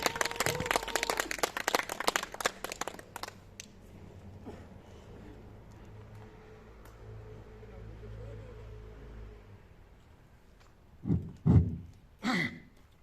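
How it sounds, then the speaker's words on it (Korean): Audience at a small event in Gimje claps to welcome a speaker, a brief burst of applause that fades into quiet room noise before a few voices come in near the end. "우리 고영기 박사님께 큰 박수 부탁드립니다"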